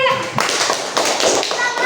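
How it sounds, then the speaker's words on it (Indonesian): Classroom of children clapping for a student group, a dense patter of small hands close by with a few sharper taps standing out. "Beri dulu tepuk tangan untuk kelompok 3 tadi."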